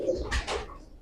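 Pigeons of the crystal blue-eyed Chandakhani breed give short, soft coos, about two bursts close by, with a low murmuring hum underneath.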